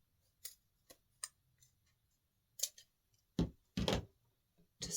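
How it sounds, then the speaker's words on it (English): A series of sharp snips and rustles sounds close by, with several quick cuts followed by louder crinkling near the end. "So I will get my scissors"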